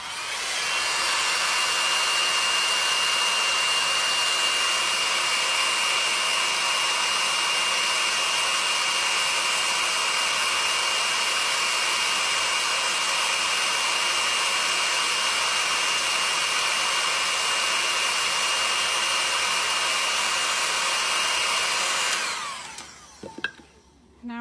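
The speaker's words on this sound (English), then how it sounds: "we are going to air dry just a little bit more, and then we'll heat press that" A hair dryer blows steadily onto fresh chalk-paste ink on a DIY designer bag, a loud continuous whoosh with a faint whine that runs unbroken for over twenty seconds before cutting off at the end.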